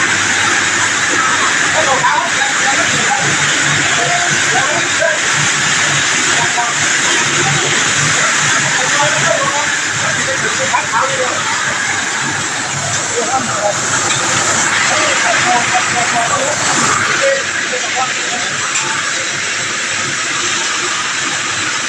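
A rice mill for white and brown rice runs with a 16-channel shaking sieve, a ten-horsepower Mitsu motor and a nine-inch huller head, making a loud, steady mechanical roar and hiss throughout while someone talks over it.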